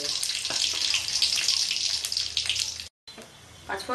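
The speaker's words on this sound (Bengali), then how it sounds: "পাঁচফোড়ন দিয়ে দিয়েছি, পাঁচফোড়নটা ফুটে গেলে আমি মাছটা দিয়ে দেবো।" Panch phoron spices splutter in hot oil in a pan for a Bengali prawn dish, a close, dense sizzling crackle that cuts out briefly and then resumes more quietly.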